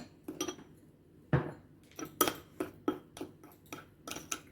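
A utensil scrapes and clinks against a bowl while vanilla and powdered sugar icing for cinnamon rolls is stirred, giving a string of close, irregular taps and scrapes separated by short pauses.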